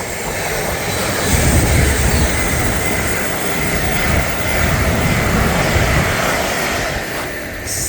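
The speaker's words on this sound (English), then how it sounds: "I love seeing container trains at speed" Container freight train hauled by a class 66 locomotive passing at speed through Berkhamsted, a loud continuous rumble and rush of wagons with swelling surges and a hint of wheel squeal, close by and without voices.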